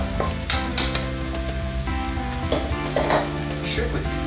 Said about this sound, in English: go ahead and add the vegetables